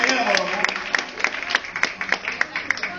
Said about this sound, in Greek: Ένα χειροκρότημα στην Ελένη